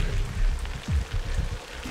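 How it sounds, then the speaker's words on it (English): Heavy rain pours onto a cold Himalayan river outdoors, a steady broadband hiss with low rumbling water and a few splashy bursts, loud and continuous without talk. "The rain is really picking up."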